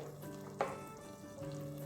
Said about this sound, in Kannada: ಎಲ್ಲ ಚೆನ್ನಾಗಿ ಫ್ರೈ ಮಾಡೋಣ